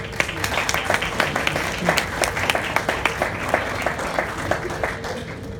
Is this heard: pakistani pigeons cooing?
no